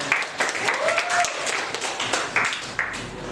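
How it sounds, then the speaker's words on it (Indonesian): Classroom applause during a teaching performance session at a university, with a group of people clapping in a dense, steady patter that runs for several seconds under some murmured voices and noise. "Aplaus lagi dong."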